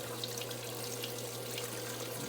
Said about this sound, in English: See the water dripping down, drips down through holes, and that's how it works.